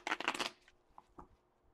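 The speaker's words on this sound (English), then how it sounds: "I should really pay attention when shuffling." Tarot cards being shuffled by hand, a quick burst of crisp riffling flutters for about half a second, then a couple of soft taps as the deck settles, heard close with no talk.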